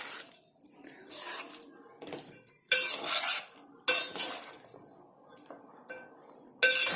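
Cooked rice for Mumbai-style tawa pulao mixed in a pan, with repeated metal spoon scrapes and clinks against the pan in irregular bursts, close and clear, no talking.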